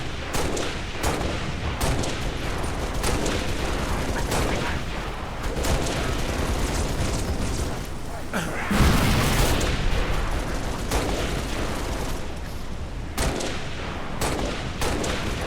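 Rapid gunfire crackles through a Halo Reach battle, dense bursts of shots and heavy impacts repeating steadily, with a louder booming blast near the middle, all close and loud.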